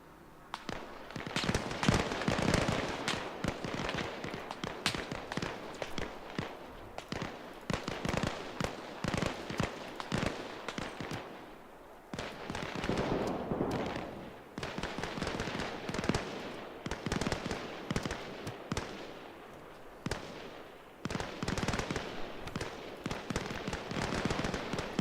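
Anti-aircraft gun firing in a video game, dense rapid bursts of cracking shots in long strings with short pauses, loud and sustained over about twenty-five seconds.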